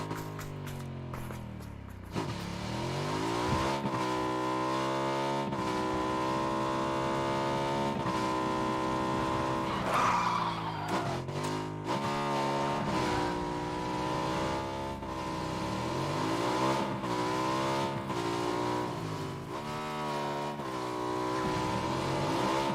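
A motorcycle ridden in the video game PUBG: a steady, droning engine whose pitch swells and dips as it revs, loud and continuous throughout with no talk.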